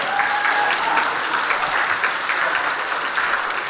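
A theatre audience at a Chinese crosstalk comedy show applauds warmly in a dense, continuous wash of clapping that holds steady throughout, with no talk on top.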